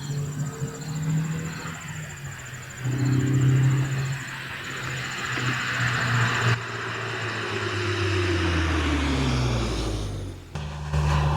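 A 2002 Honda S2000 being driven, its engine droning steadily from inside the cabin with the pitch shifting and rising through gears, accompanied by a faint high whine.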